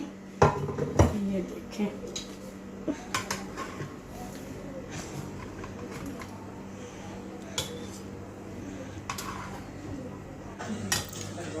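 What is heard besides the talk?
serving a cooked Arabic eggplant and meat dish onto a plate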